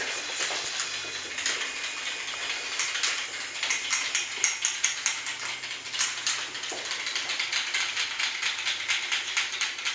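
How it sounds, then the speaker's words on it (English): A beer keg of Marathon IPA being shaken by hand to force in CO2, giving a steady run of rapid sloshing, clicking rattles through most of the stretch, close and fairly loud, with no talking. "now I'm just going to shake it for 1 minute to get the CO2 into the beer"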